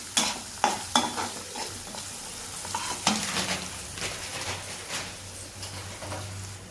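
Poha ingredients with turmeric frying and sizzling in a pan on a low flame, stirred with a utensil; a steady soft sizzle runs throughout, with several sharp scraping knocks near the start and a steady stirring rhythm, fairly close and quiet.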